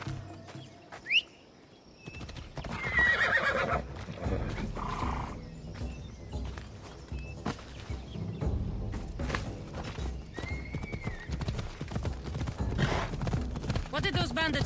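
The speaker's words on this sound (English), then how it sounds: "This would be faster on horseback." Horse hooves gallop in a rapid, steady clopping rhythm through Assassin's Creed Odyssey, mixed with busy game ambience and a few brief chirps across the full stretch.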